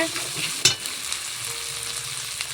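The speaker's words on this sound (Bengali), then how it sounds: "মশলা কষানি হয়ে গেছে তেল ছেড়ে দিয়েছে মশলার গা থেকে" A spice paste cooked down until the oil separates fries in a pan with an even, close sizzle, marked by one sharp clack of a spoon and light stirring scrapes.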